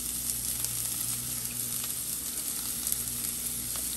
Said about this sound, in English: And then I'm gonna go in with these sliced onions.